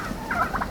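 Wild turkey toms in a large group during a South Dakota hunt give a short, bright gobble at moderate distance, a quick rattling burst lasting under a second against quiet outdoor air.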